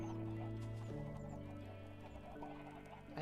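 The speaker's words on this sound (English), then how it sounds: "have the chickens in here grown up?" Chickens in the Minecraft video game cluck in short bursts over sustained background music, fairly close and moderately loud.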